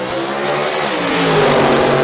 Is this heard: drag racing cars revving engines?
yes